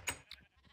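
Short Minecraft sheep bleats, one sharp and close followed by a softer one, in a quiet game scene.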